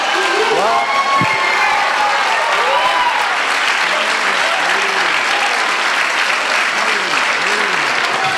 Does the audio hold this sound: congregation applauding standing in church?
yes